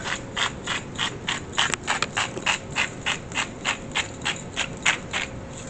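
Italian seasoning being ground in a hand-twisted spice grinder, a rapid rhythmic ratcheting crunch repeating in even pulses, close and clear with no talking during it.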